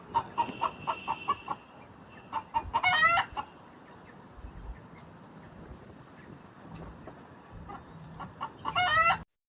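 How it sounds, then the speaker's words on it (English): Rooftop chickens in Dahab, Egypt: a loud rooster crows twice, once early and once at the end, with scattered clucking from hens in between over quiet outdoor background. "There's a really loud rooster across the way over there."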